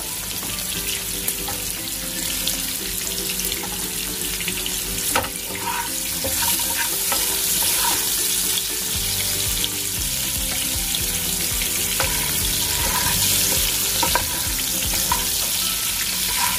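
Capsicum frying in oil for lemon coriander prawns, a steady broadband sizzle running throughout with scattered clinks and scraping of a utensil, plus what may be running water in the background.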